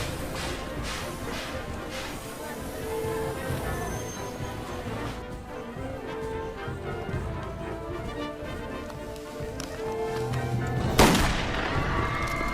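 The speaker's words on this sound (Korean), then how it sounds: "안중근 의사가 중국에 있는 하얼빈 그 역사에서 1909년 10월 달에 저격을 했어요" Gunshots ring out in a film scene depicting Ahn Jung-geun's 1909 assassination at Harbin station, sharp reports scattered among dense background sound and music, with one louder crack near the end.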